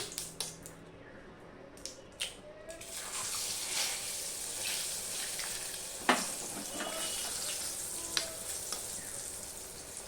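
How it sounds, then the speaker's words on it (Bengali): Two eggs fry in a pan of hot oil seasoned with salt and turmeric, a quiet continuous sizzle after a few initial taps and clatters, with occasional utensil knocks against the pan. "এই ডিমগুলো আমি ভেজে নিচ্ছি"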